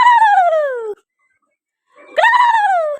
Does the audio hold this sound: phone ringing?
no